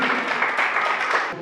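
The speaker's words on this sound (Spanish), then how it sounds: "Vamos a dar un fuerte aplauso al Rey de Él" Short burst of audience applause during a church choir event, a steady sustained mass of clapping from the congregation that cuts off abruptly near the end.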